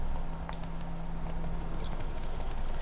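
In The Witcher 3, the horse Roach's hooves clip-clop in a quick, steady rhythm, fairly quiet against a soft game ambience with no talk.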